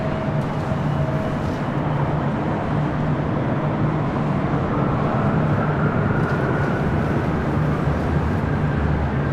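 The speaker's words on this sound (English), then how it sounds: "Also had American 777-300ER arrive on the south side." An American Airlines Boeing 777-300ER jet airliner arrives at LAX, flight 137 in from London Heathrow, as a steady, broad roar of engine noise holds at a constant level throughout.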